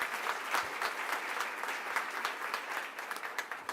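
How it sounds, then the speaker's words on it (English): Guests at a hospital staff recognition celebration clap for an award recipient, a soft, somewhat distant crowd applause with a dense, steady patter that gradually thins toward the end. "we'll still go ahead and give her a round of applause"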